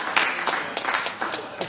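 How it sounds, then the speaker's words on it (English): A small group claps and applauds, a brief burst of scattered hand claps close by. "Give that team a big clap."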